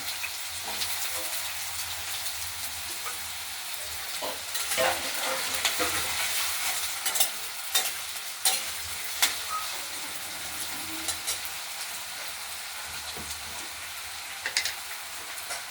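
Potatoes fry in oil in a kadai, giving a continuous crackling sizzle that swells and pops irregularly, with occasional louder spatters and stirring clicks close by.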